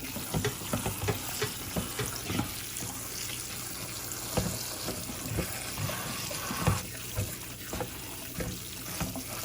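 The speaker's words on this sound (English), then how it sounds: "We got it in the strainer now, and I got hot water. And I'm washing off all the greases" Hot water running and splashing over ground chuck in a strainer, a steady hissing wash with irregular clatters and sloshes, fairly quiet and without talk.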